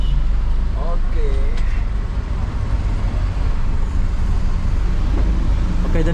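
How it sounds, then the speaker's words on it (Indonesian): Inside a Trans Batam city bus riding from the port toward Batu Haji in Batam, a constant low engine rumble and road noise carry on steadily. People talk over it. "kita naik bus Trans Batam ini dari pelabuhan tadi"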